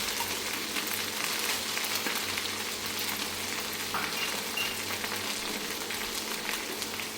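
Ginger and garlic paste fry in oil with a dense, continuous sizzle and crackle, close and steady throughout, with faint stirring clicks.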